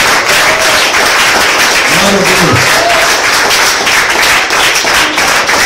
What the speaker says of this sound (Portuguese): quem pode aplaudir bem forte o Senhor?